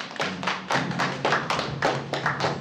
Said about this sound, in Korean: 자, 박수 한번 드리겠습니다.